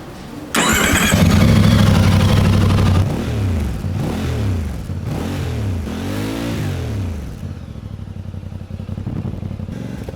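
A Voge DS800X Rally motorcycle engine cranks and catches, revving loudly before dropping to a steady, throaty, tractor-like idle, with a few throttle blips in between.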